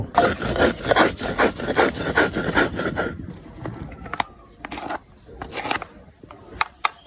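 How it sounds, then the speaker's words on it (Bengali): Cumin seeds are ground on a grinding stone, giving a rapid run of rhythmic scraping strokes that then thin out into a few sparse, sharper rubs and taps, close and moderately loud. "এখন আমরা জিরেগুলো ভালোভাবে বেটে নিব"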